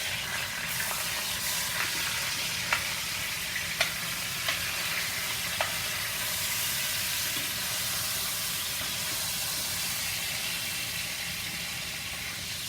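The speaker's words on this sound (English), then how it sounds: "What we just want to do is sear it off a little." Pot roast beef sears in a hot pan, giving a steady, loud sizzle and hiss throughout, broken by a few faint clinks. No one speaks.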